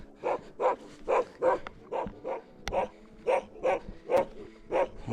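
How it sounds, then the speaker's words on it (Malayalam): A dog, likely a shepherd's dog, barks high in snowy mountains at about 17,000 feet, a regular series of a dozen or so evenly spaced barks at moderate distance. "ബാക്കിലുണ്ടാ കുരക്കണുണ്ട നായി."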